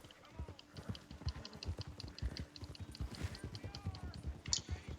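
Horse hooves clip-clop in a steady galloping rhythm in the Red Dead video game, a quiet, close set of repeated thuds beneath faint voices.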